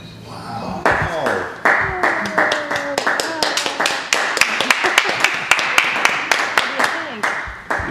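Audience clapping for a young volunteer after a magic trick, scattered hand claps that build into sustained applause, with a voice talking over parts of it.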